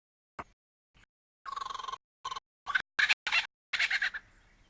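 Lyrebird mimicking a kookaburra's call, a run of loud, close, cackling bursts that begins with isolated notes and builds into rapid rhythmic laughing phrases.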